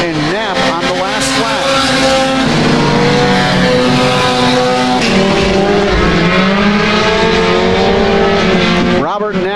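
Mini stock race cars roar around a dirt track in a loud, continuous engine drone with rising and falling pitch as they pass, while an announcer talks over the noise.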